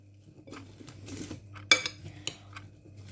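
Utensils mixing salad in a bowl give soft scraping and stirring, broken by one sharp clink and a few lighter taps, quiet and close with no talk.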